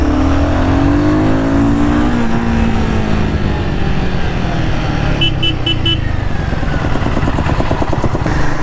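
A Royal Enfield Guerrilla 450 motorcycle engine revs and accelerates loudly up close, pitch sweeping upward through the gears with a steady throaty roar and brief whine bursts midway.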